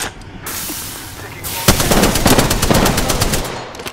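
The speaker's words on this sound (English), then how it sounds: "I am taking fire, friends." Automatic gunfire in Apex Legends: after a quieter start, sharp rapid bursts of shots rattle close and loud for the last couple of seconds.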